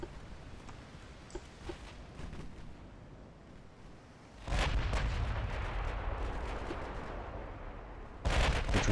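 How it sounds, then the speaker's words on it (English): Warship guns fire in the Ultimate Admiral: Dreadnoughts naval game, with secondary batteries and main guns in a battleship engagement. Scattered distant booms build into a dense, loud roar of continuous gunfire, then a fresh heavy volley bursts in at the end. "we'll keep the secondaries firing on him"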